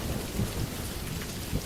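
Steady outdoor rain, a dense even hiss with scattered low thuds of drops and a faint rumbling undertone, continuous and fairly loud, with no voices.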